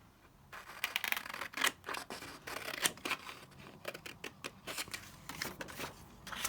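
Scissors snip through printed vintage floral paper for a junk journal kit in a quick irregular series of close, crisp cuts, with light paper rustling between snips and no talking.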